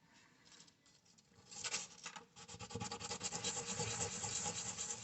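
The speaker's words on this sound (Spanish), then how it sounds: "Cuando estamos empezando a lijar la cubierta" Sandpaper rubbing back and forth over a 1/43 scale model car's plastic tire, a close, steady scratchy patter that starts faint and grows louder and busier midway.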